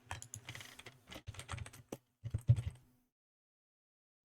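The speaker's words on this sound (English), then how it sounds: "we're going to type in the word gate click or gate macro" Rapid typing on a computer keyboard, close and fairly loud, in quick irregular bursts of keystrokes that trail off into silence near the end, with one last isolated tap.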